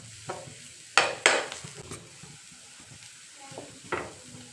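Bitter gourd fries in a pan for gojju under a quiet, low sizzle. A few distinct stirring scrapes and clinks of a spatula stand out, including a sharp pair near the start and another near the end.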